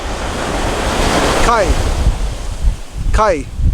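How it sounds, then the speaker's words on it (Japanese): Ocean surf in Hawaii: a loud, continuous wash of breaking waves with strong wind noise on the microphone, and a voice speaking briefly twice in the middle of the roar. "4つ目は海です。"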